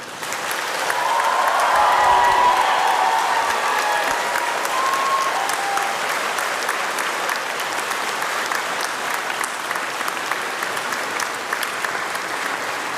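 A large graduation audience cheers and applauds in a hall, a loud sustained roar of clapping with shouts that swells early and then holds steady.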